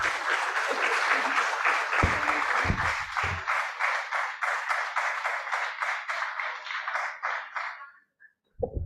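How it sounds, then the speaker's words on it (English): A conference audience claps for prize winners. Dense, steady applause runs for several seconds, then thins into scattered claps and stops, with a sound at the very end. "let's have a big round of applause for them"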